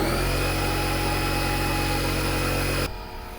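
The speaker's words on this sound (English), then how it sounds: "I'm just so annoyed right now with this damn air compressor" A budget air compressor runs with a loud, steady motor drone and a harsh tonal buzz, then drops in pitch and level near the end as it winds down.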